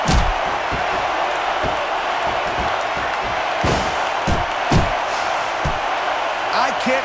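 Arena crowd at a wrestling match in WWE SmackDown! vs. Raw 2006, a loud continuous roar with scattered cheers and occasional thuds throughout, while voices talk over it.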